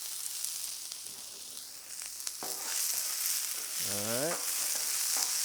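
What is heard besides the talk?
onions sizzling in oil on a hot grill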